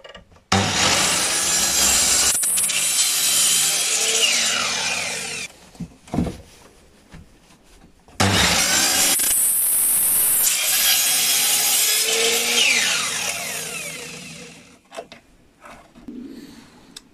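A saw cuts a notch into a wooden formwork plank in two long, loud bursts of rasping strokes, separated by a short pause, with no talking.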